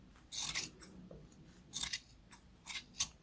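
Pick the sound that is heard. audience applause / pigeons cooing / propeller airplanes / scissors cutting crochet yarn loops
scissors cutting crochet yarn loops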